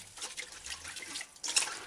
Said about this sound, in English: Drain off excess water and then give it a final rinse in fresh water.